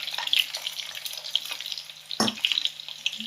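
Onions sizzling and crackling in hot oil, a busy continuous fry with a brief clatter of stirring partway through.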